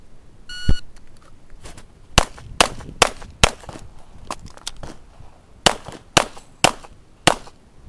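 Pistol gunshots at a USPSA match in the Carry Optics division: a start beep, then a string of sharp, loud shots in irregular rapid bursts, with a few quieter pops between them.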